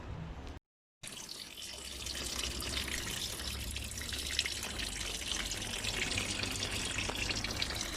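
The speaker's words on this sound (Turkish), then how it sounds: "Antifrizimiz kıpkırmızı maşallah süzülüyor." Red antifreeze draining from a Land Rover Freelander 2.2 engine during a timing belt and water pump change, a steady splashing trickle of liquid after a brief gap of silence, continuous and moderately close.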